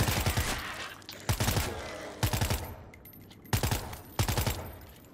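Bursts of automatic gunfire in the zombie shooter World War Z, four or five loud rapid volleys of shots separated by short pauses with brief ringing tails.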